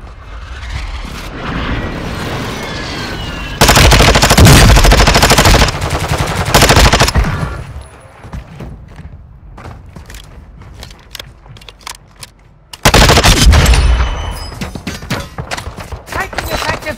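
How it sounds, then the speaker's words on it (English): Bursts of automatic gunfire in Warzone 2 come in loud sustained volleys, separated by quieter stretches with scattered single shots and distant fire. "Taking effective fire!"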